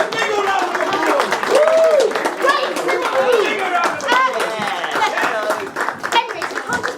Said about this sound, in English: A big old round of applause.